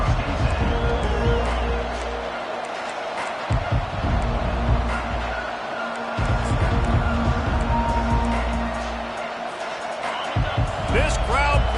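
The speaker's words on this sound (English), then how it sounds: "This crowd bringing the energy and noise early." Football stadium crowd at a game, a loud continuous roar with surges and thumps, heard under a play-by-play commentator talking throughout.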